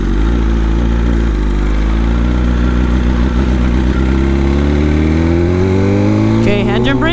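A BMW S1000RR sport bike with an SC Project slip-on exhaust revs very loud and close, one sustained roar climbing steadily in pitch before a brief crackle at the end.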